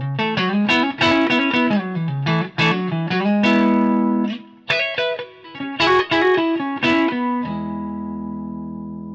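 An electric guitar plays a melodic phrase of single notes and chords through the clean channel of a Fender Machete amp with light digital reverb, ending on a sustained ringing chord.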